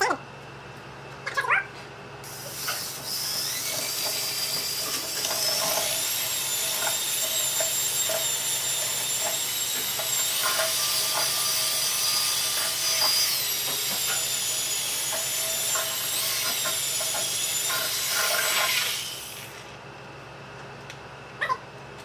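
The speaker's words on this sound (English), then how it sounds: "So I'm getting this sanded down pretty good, getting the high spots down, trying to get it nice and smooth" Power sander grinding down rusty metal on a Traeger pellet grill during a rebuild: a steady, loud high-pitched whine that runs for about sixteen seconds, with brief bumps and clatter before it starts and after it stops.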